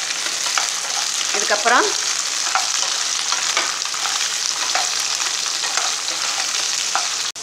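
Radish and other vegetables sizzle steadily in hot oil in a pan while a radish sambar is being made, a continuous close frying hiss with brief stirring scrapes and a few spoken words.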